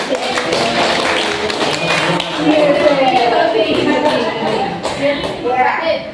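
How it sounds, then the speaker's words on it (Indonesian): A room full of people claps for Pak Firly during a teachers' peer training session. The dense, steady applause runs the whole time, with voices mixed in. "Tepuk tangan Pak Firly"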